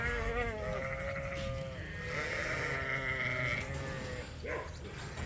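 Several sheep bleat on pasture, their wavering, drawn-out cries overlapping close by over a steady background of outdoor noise.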